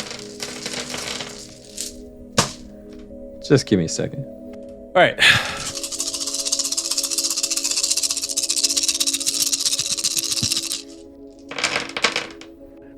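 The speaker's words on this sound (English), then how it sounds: "Getting a few more dice out." Many dice are handled and rolled, with clattering bursts and a long rattling tumble across a surface, close and loud, while a person speaks briefly between the rolls.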